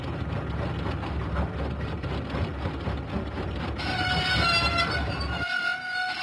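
A cartoon train from a Thomas and Friends video game chugs along in a steady rhythmic clatter. Partway through, the sound shifts to a brighter tonal layer and ends with higher sustained tones.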